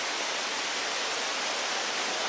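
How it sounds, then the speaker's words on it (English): Waterfall in Baxon Hill Gorge on the Ingleton Waterfall Trail, a steady, dense broadband roar of falling water close by, continuous and loud with no voices over it. "we're just coming down to Baxon Hill Gorge and the main waterfall through here"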